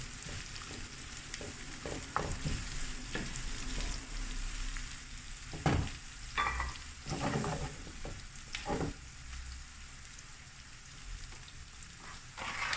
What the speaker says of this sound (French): Cuire nos oignons jusqu'à ce qu'ils deviennent translucides